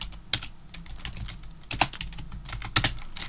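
Computer keyboard typing, a light steady patter of clicks with three sharper strokes that stand out, close by with no voices.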